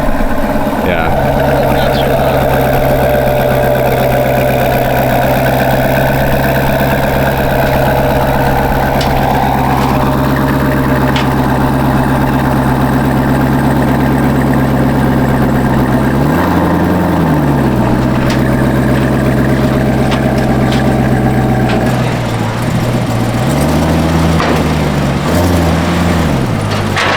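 A Corvette C7 Z06 wearing a ZR1 body kit with a valved step exhaust idles in a loud, deep, steady rumble close by, giving brief throttle blips partway through and near the end.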